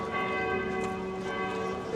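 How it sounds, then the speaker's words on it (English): Church tower bells ring in Prague, a sustained metallic peal with lingering overtones, moderately distant and heard on its own. "Sounds like we may have found the tower that is causing all of the bell commotion."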